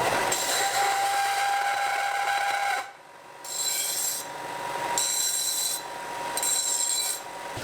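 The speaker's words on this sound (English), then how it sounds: "so I'll take it over to the belt sander" A belt sander grinds a cut metal part for a Gen 3 Hemi Mustang swap, flattening and deburring it in a rasping whir that cuts in and out in several bursts with short pauses, no talking.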